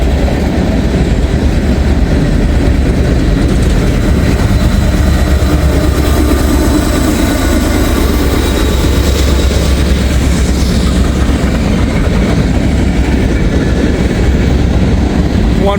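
A long freight train with distributed power locomotives rolls steadily past close by, a continuous loud rumble of heavy engines and wheels on rail that holds for the whole stretch without pause.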